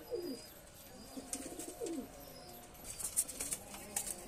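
Rampuri pigeons coo in low, rolling calls while wings flap and flutter in short bursts nearby, with a few higher chirps toward the end.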